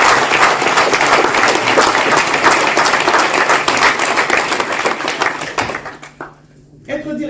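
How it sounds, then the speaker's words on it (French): Applause fills a Senate hall during a ceremony awarding directeur de cabinet diplomas to many overseas-territory graduates. The clapping is loud and sustained for about six seconds, then drops away to near quiet before a voice returns. "je pense qu'il faut que vous vous applaudissiez"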